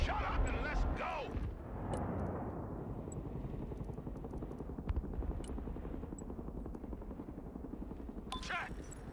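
Chinook helicopter in the video game Broken Arrow, a steady rotor drone with low thumping that runs throughout, with a brief burst of people talking at the start.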